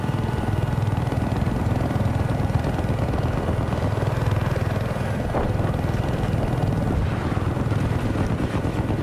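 Loud, continuous thumping rotor drone of a helicopter in the video game Battlefield 4, close and steady for the whole stretch, with no talking.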